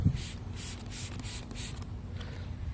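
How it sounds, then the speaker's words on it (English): Several short hissing sprays of P&S Bead Maker detailer onto a towel in a steady rhythm, close by, each a quick burst of fine mist followed by brief pauses. "And then I would spray some on the towel as well."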